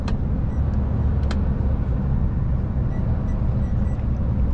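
Empty lorry driving on a road from Czechia toward Poland through the Karkonosze mountains, heard from inside the cab as a steady low engine and road rumble, with a few faint clicks and no talk.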